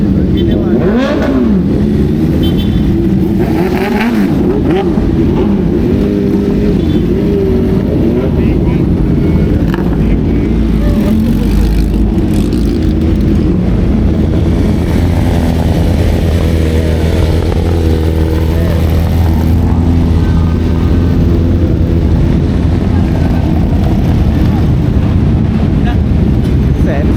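Harley-Davidson motorcycle engines rumble loudly and continuously during a Sunday morning group ride to Senayan City, a deep throbbing drone with occasional revs, while people talk over it.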